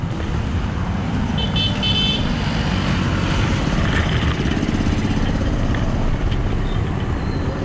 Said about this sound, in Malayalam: വലിയൊരു ഹൈവേ എന്താണ്, നല്ല തിരക്കുണ്ട്.